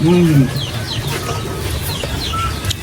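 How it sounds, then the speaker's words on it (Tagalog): Native chickens cluck and murmur in the background, fairly faint, while a person talks nearby over a continuous outdoor hum. "Mga native na manok."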